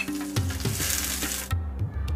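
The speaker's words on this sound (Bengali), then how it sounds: "ফোড়নটা একটু হয়ে গেলেই ওর মধ্যে দেব গোটা একটা পেঁয়াজ কুচি।" Chopped onion frying in hot oil with cinnamon and bay leaf, a loud continuous sizzle with a few clinks and scrapes of stirring, close up, no voices.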